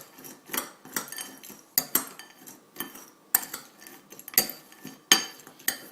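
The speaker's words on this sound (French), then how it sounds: "il faut bien mélanger" A metal spoon clatters repeatedly against a bowl while chocolate chip filling is mixed, giving irregular sharp clinks and scrapes at close range with no talking.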